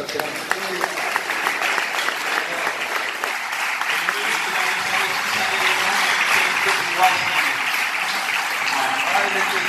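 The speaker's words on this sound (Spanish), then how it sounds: "Fuerte aplauso" Congregation at an Argentine church healing service bursts into sustained, dense applause, loud and steady throughout, with voices mingled into the clapping.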